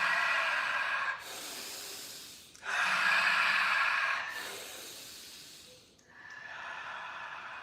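Deep breathing-exercise breaths, close and loud, alternate long forceful inhales and exhales with airy, snorting hiss, four or five breaths in a slow rhythm with no talking.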